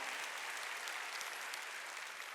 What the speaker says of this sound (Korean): 박수 치라 이게야.